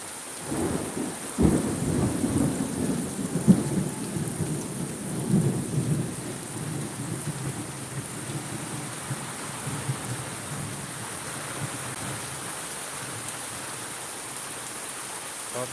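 Thunder cracks and rumbles through a steady roar of heavy rain during a storm, the downpour loud and continuous with a sharp clap early on, no voices.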